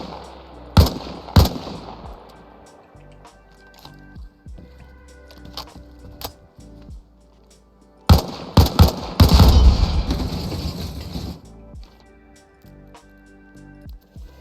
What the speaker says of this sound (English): Okay, so that's how many bullets it takes to destroy the rotor.